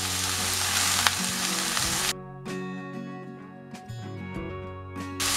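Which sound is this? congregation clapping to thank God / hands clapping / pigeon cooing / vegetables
vegetables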